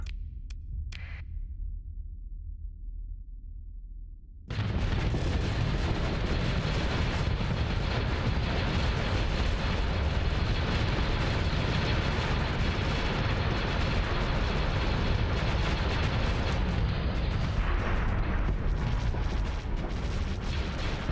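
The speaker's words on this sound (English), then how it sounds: "Victory missiles to the rescue." Missiles bursting against ships in the space game Starsector, a sudden loud onset after a short quiet lead-in, then a continuous rumbling barrage of blasts and booms that keeps going with no voices.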